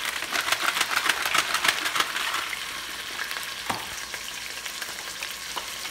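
Pot roast browning in an Express CrockPot sizzles steadily with a crackling fry, louder and spattering at first, then settling into a softer continuous hiss with an occasional pop.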